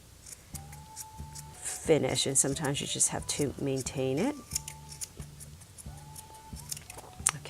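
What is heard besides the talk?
scissors trimming a yarn pom-pom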